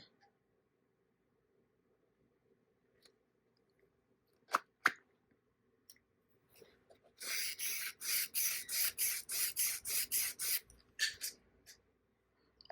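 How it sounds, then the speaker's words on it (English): Chalk scrapes across fabric while a line is marked for sewing a bag: a few soft clicks first, then a quick run of close, dry, scratchy strokes in a steady rhythm. "You're going to make a chalk line 2 1/4 of an inch up."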